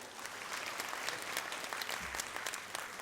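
An audience at an evening mid-autumn festival celebration at a club applauds, a dense, even burst of clapping from many hands filling the room at moderate level.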